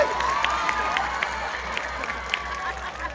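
Crowd at a live comedy show in Casiguran, Sorsogon claps and cheers, with scattered shouts over a steady murmur of applause, moderately loud and continuous throughout.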